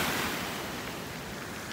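Calm, slightly murky Black Sea waves at Sochi on a clear, windless February day make a steady, broad wash of surf that holds evenly throughout with no voices.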